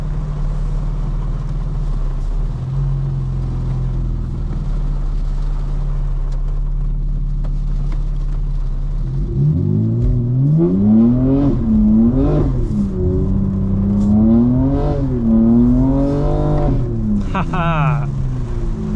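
A modified 2025 BMW M4 Competition drifting in the rain, steady engine drone that swells into repeated revving surges and rising howls as the car slides, heard loudly from inside the car.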